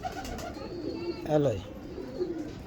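Teddy breed pigeons coo softly in the background while someone speaks briefly nearby, with one louder throaty coo rising mid-way.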